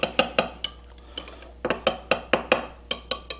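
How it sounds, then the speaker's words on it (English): A utensil stirring soft plastisol for fishing lures in a container, making a rapid series of about a dozen sharp clinks and scrapes with brief pauses, close up and alone. "We're going to just stir that"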